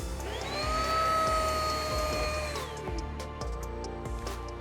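A Riccar cordless upright vacuum cleaner is switched on and whirs up to a high steady whine, then winds down after a few seconds, followed by light tapping and handling noises.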